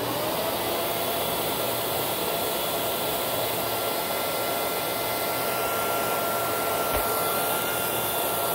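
A Royal 4700 PowerTank vacuum runs steadily through an airflow test, a loud, constant whooshing roar with a faint whine, uninterrupted from start to finish, with one brief knock near the end.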